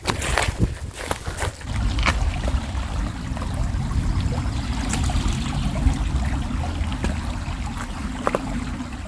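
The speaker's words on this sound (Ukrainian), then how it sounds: "бачите, така річечка тече" A small forest river flows with a continuous rushing and burbling wash, a few sharp knocks and rustles on top, heard close and loud without talk.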